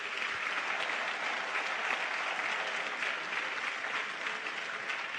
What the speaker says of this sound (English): let's give them another congratulatory round of applause